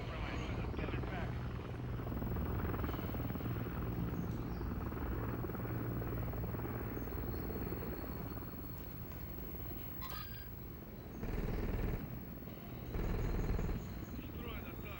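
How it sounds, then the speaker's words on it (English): A friendly overwatch helicopter in Call of Duty: Modern Warfare III, its rotor throb a steady low drone with gunfire and explosions layered above it, plus radio chatter and brief louder bursts near the end. "Friendly Overwatch Helo inbound."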